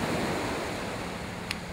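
Ocean surf churns and washes continuously at a beach where people are surfing, a loud, steady roar of breaking waves with wind across the microphone.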